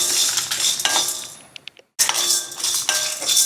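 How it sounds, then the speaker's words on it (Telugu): Lentils, peanuts and dried red chilies dry-roasting in a kadai, with close metallic scraping and clinking of a ladle against the pan plus a rattling hiss, broken by a brief silent gap before resuming. "ఇప్పుడు వీటన్నిటిని కూడా దూరగా వేయించుకుందాం"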